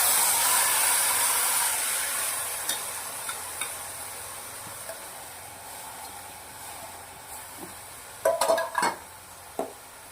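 Masala and tomatoes sauté in hot oil for a toor dal and rice dish, a steady close hiss that fades slightly, followed near the end by a cluster of scraping stirs.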